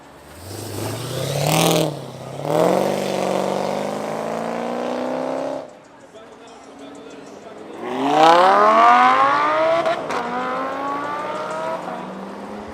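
Supercars accelerate down a street during a Halloween supercar rally, engines revving loud and rising in pitch as they pass close by, two bursts of hard acceleration with a quieter lull between.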